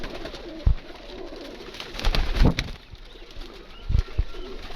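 Pigeons kept for pigeon flying coo softly nearby under a steady background murmur, with a few sharp thumps and a brief flutter of wings; no one speaks.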